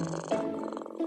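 A contented cat purrs softly and close, a short low rumbling purr with a few slight shifts in tone.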